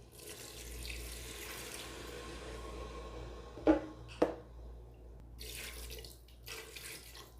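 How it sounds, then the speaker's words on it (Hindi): Two cups of water poured into a pressure cooker of mutton browned with spices and whole garam masala for Karachi-style biryani: a soft, steady pouring stream, faint and close, with two brief clinks midway. "पानी हम ऐड करेंगे"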